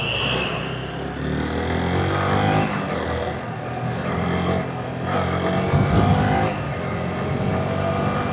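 A fully modified Yamaha R15 V3 motorcycle runs at steady speed, its engine droning loud and close with wind rush and a couple of rising surges of throttle.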